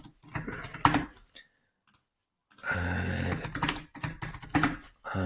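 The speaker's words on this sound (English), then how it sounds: "So let me just type this in now." Fingers type on a computer keyboard in quick bursts of key clicks, with a short pause before the tapping resumes, close and clear with no talking.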